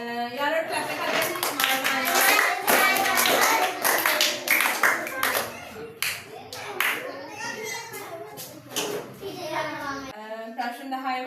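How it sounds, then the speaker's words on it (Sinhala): Schoolchildren in a classroom burst into loud, rapid clapping in several waves, mixed with children's voices and chatter. "යාළුවෝ ක්ලැප් එකක් දෙන්න."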